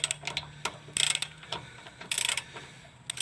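A socket wrench ratchets on a control arm bolt under a Dodge Ram 1500, giving close, crisp clicking bursts in quick runs separated by short pauses, with no talking.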